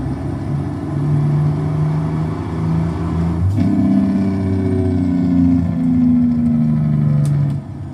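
A 12.7 litre truck engine in a truck driving video game revs and rumbles steadily, the pitch climbing as it pulls through gears, loud and continuous.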